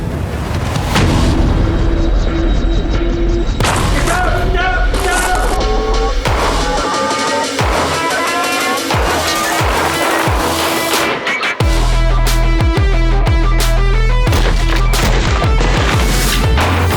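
Gunfire rings out during shooting drills as a dense series of loud, sharp shots, with rapid bursts and heavy booms over a continuous loud backdrop, close and overwhelming.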